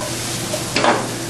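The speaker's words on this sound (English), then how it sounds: "I've got my garlic, my onions roasting away." Garlic, onions and sun-dried tomatoes sizzle steadily in a hot pan, a close, even hiss with one brief louder flare of frying partway through.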